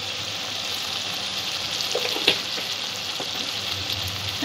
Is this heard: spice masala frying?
yes